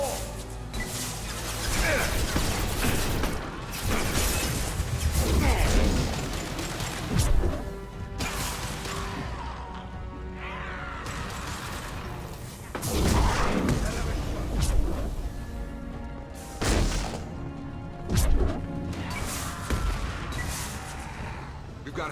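Grenade blasts and combat in the Mass Effect 2 video game, a dense stretch of repeated booming crashes and gunfire-like impacts over a continuous rumbling battle bed, with voices talking at times.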